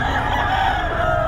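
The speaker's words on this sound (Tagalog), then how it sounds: "Daming manok ni Boss Albert na yun" Roosters and stags at a gamefowl farm in Bocaue crow over a dense, steady din of many birds, loud and close with no talking.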